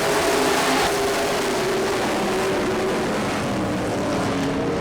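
Hot rod race cars at a short track roar together at full throttle, a loud continuous engine drone filling the air as the pack accelerates away.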